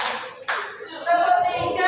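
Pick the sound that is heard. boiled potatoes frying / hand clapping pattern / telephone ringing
hand clapping pattern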